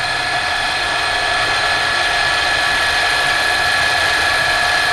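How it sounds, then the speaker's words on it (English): A power drill runs with a dull 3mm bit and drills steadily, giving a loud, continuous grinding whine with a ratchet-like metallic edge that lasts the whole time and has no talking over it. "Well, this drill is dull."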